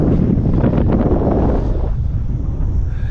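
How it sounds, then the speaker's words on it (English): Wind gusts across the mic at a high lookout on Moreton Island, a steady loud rushing roar that eases slightly partway through, with no voices. "it's a nice windy breeze up here"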